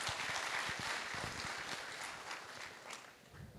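Faint, distant applause rises from a seminar hall audience in Patna for Praveen Sir, a soft wash of scattered clapping that holds at low level throughout.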